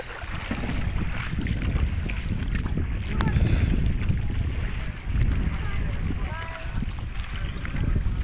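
Boats on floodwater at a Philippine boat terminal, a continuous rumbling wash of water and motor noise with gusty wind buffeting the microphone and faint voices in the background.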